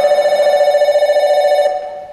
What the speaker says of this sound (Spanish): ¿Y quién va a atender el teléfono?